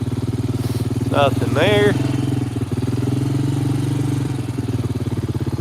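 A small engine idles fast with a steady, loud, close putter that runs throughout, while someone speaks briefly over it outdoors by the water.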